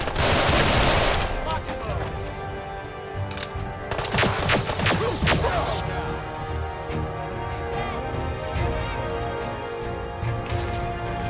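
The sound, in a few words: gunfire in a video game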